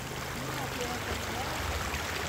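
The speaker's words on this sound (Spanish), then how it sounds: "Lo bueno que no se seca este río." A river in rural Santa Ana, El Salvador, where a woman washes clothes, flows steadily with a soft rushing murmur under the scene while people talk.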